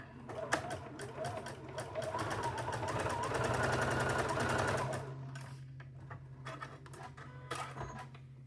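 A sewing machine stitches fabric for a quilted farm-chicken block, running in a fast steady whir of rapid needle strokes for a few seconds, then stopping, followed by scattered short clicks and handling taps.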